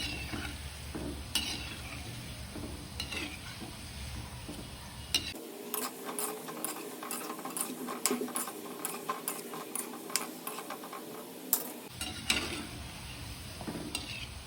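Jamnagar kachori frying in oil, a soft continuous bubbling sizzle with light ticking pops and occasional utensil clinks, close and fairly quiet, no voices.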